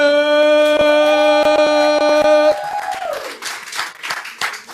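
An audience at an evening event in Orlando claps with scattered, uneven hand claps. Sustained musical tones sound over the clapping at first, and then the clapping continues on its own at a lower level.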